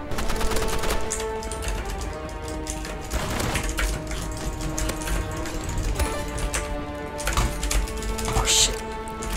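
Assault rifle gunfire in Roblox Rivals rattles out in rapid bursts of sharp, loud shots across a busy game soundscape, with music-like tones underneath and some voice chatter mixed in.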